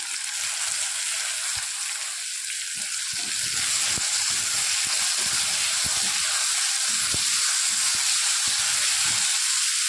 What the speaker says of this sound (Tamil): கட் பண்ணி வச்சுருக்க ஒரு தக்காளியை போட்டுக்கோங்க